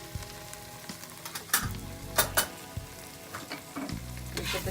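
A pan of ground coriander, cumin and garam masala frying for a potato and pea curry in tomato sauce, stirred with a spoon. Steady sizzling runs under several sharp scraping stirs, close and clear, with no talking.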